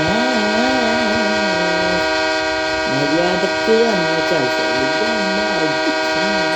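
A long, loud, steady train horn in the Roblox game Choo-Choo Charles, with rich layered tones sounding continuously while a voice talks over it.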